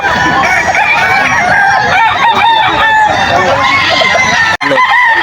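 Kelso gamefowl stags and roosters at a busy poultry market in Bocaue, Bulacan crow loudly and repeatedly at close range, overlapping in harsh, drawn-out calls amid clucking and faint background voices.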